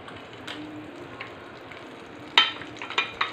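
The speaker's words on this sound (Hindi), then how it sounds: "तेल को अच्छे से गर्म होने देंगे। इसमें डालेंगे हींग," Asafoetida drops into hot oil in a pan while cooking potato curry, giving a soft steady sizzle with a few sharper crackling bursts toward the end.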